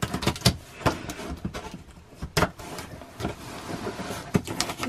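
Cutting open a package of Disney pins gives sharp scattered snips and rustles, several clicks and tears with short pauses between them, close and fairly faint.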